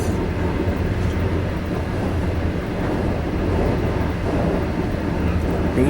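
Overnight sleeper train from Shijiazhuang to Shanghai rumbling steadily past a small, nearly abandoned station, with a continuous loud low roar of wheels and carriage noise throughout.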